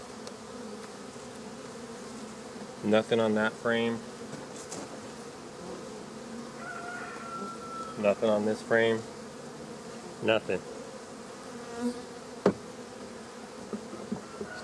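Honey bees buzz around a queenless hive as frames are inspected, a steady insect hum under a man's intermittent speech.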